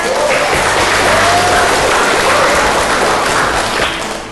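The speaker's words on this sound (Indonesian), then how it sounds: "tepuk tangan buat Marlina" Students in a classroom give a classmate a burst of loud, close applause, a dense wash of clapping that holds steady for several seconds before tapering off at the end.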